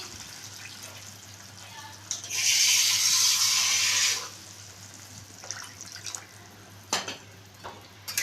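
Water pours into a pan of simmering rupchand fish curry with potatoes, giving a loud splashing, hissing burst for about two seconds amid quieter bubbling and a few clinks of cooking utensils.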